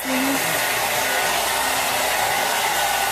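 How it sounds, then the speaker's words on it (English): A hair dryer blows with a steady, loud whooshing roar close by, unbroken for the whole stretch. "Like the hair dryer?"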